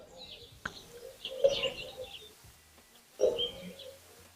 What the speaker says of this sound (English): The natural surrounding with the birds singing.